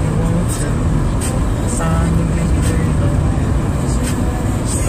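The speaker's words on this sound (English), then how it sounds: "we got a little traffic going on out here" Road traffic roars continuously outdoors, a loud broadband rush of passing vehicles, with someone talking intermittently over it.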